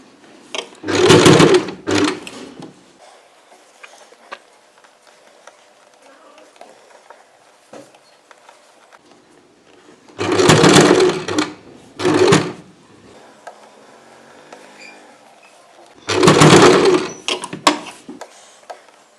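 A sewing machine stitches a frill sleeve for a layered chudi in three loud, close bursts of rapid whirring, with quiet pauses and faint handling noises between runs.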